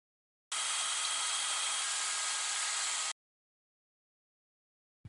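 A power drill bores holes in cabinet wood, a steady whirring buzz lasting about two and a half seconds before cutting off into silence.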